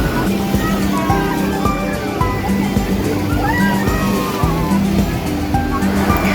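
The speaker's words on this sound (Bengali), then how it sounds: "সমুদ্রের এই ঢেউয়ের শব্দ" Sea waves roll in at Patenga beach in Chattogram at night, a continuous broadband wash of surf with wind, with faint distant voices and activity in the background.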